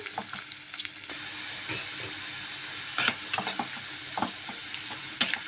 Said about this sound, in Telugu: ఉల్లిపాయలు పచ్చిమిరపాయలు వేద్దామండి వేసి బాగా వేపుకుందాం